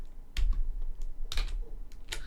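Computer keyboard keys are pressed in a few separate clicky bursts, close and fairly loud, with one sticky control key.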